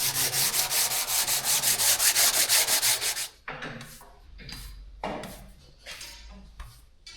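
A power saw or sander rasps steadily and loudly through a wooden door being shortened to clear a thicker floor, then gives way to intermittent scraping, knocks and rubbing.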